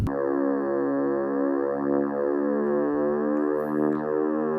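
A sustained, buzzy Casio MA-100 electronic keyboard tone with a dense wavering texture drones on without a break, imitating an aeroplane's steady engine hum.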